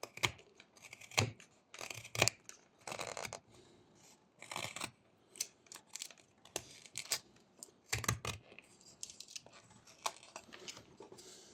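A knife pares wood in sweeping cuts while whittling a small sea turtle, making a string of short, crisp scraping strokes in an irregular rhythm, close and fairly quiet, with brief pauses between cuts.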